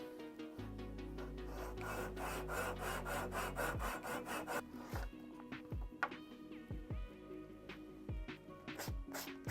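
A hand saw cuts through a PVC copy of a Jackall Tiny Magallon fishing lure, with steady rapid back-and-forth strokes for about four seconds, then slower separate strokes and scrapes, close and loud with no talking.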